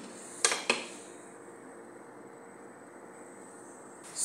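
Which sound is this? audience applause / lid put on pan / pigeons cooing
lid put on pan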